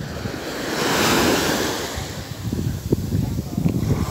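Ocean surf washing up the sand at Caraguatatuba beach and into a hole dug in the beach, a swelling rush of water with steady wind noise and small splashes.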